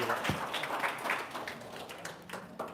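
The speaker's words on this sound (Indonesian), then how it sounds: "tepuk tangan dong, luar biasa" A crowd of seated audience members claps at a gathering, a fairly quiet, diffuse patter of many hands with scattered sharper slaps, steady throughout with no talking over it.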